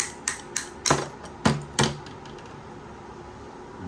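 A 3/8 bolt tapped lightly to knock a cast socket slug free: about six sharp metallic taps in quick, uneven succession, close and clear, followed by quiet.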